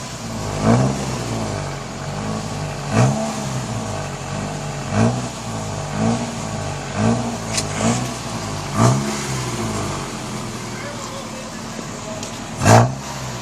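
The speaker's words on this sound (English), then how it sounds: "Mr. Johnson, you want to vary the throttle just a little bit" A fully built 2006 Mitsubishi Eclipse GS engine at its first start-up, revved lightly in regular blips about once a second over a steady idle, with people talking nearby.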